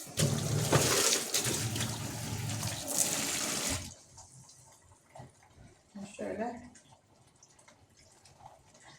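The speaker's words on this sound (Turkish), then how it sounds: "Ve buna birazcık da normalde acıcık bir soğuk su dökeceğim." Cold water poured into flour in a bowl for Turkish tarhana soup, a loud close gushing stream lasting about four seconds before it stops, followed by quieter handling noises and someone speaking.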